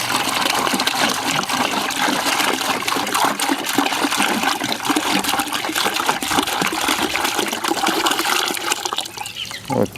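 Water pours steadily into a container of grass-based fertilizer mix, a loud continuous gushing splash that holds for nearly the whole stretch before easing off at the end.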